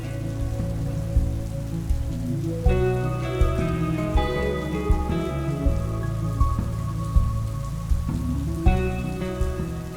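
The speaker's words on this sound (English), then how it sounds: "And inevitably, as it always does in Norway, the rain begins." Rain falls steadily on surfaces outdoors in Norway, a continuous patter under a background of melodic tones rising and stopping at intervals.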